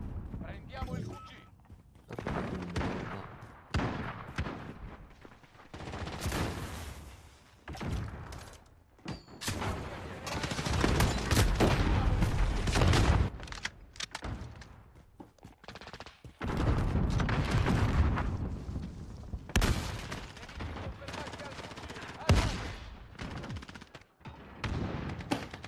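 Rapid bursts of automatic gunfire and booming shots from a first-person shooter game fought over a headquarters objective, with footsteps and thuds between volleys while someone talks over the action.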